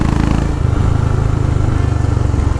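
A motorcycle engine drones loud and close with a steady, pulsing thrum while riding a mountain ghat road at night, with no speech over it.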